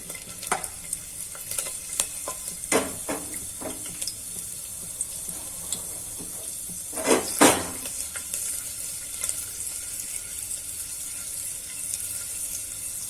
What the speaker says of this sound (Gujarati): આ રીતના પેલા આપણે લસણ નાખી દેશું.